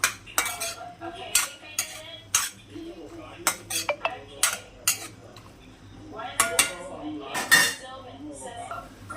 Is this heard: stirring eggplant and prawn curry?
yes